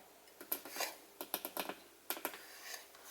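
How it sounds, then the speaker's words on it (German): A knife chopping tomatoes in a home kitchen for pasta salad: a handful of sharp, close cuts on a board in irregular bursts, with short pauses between clusters of strokes. "Schneide ich den restlichen Tomaten noch klein."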